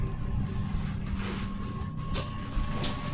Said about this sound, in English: Steal the cargo train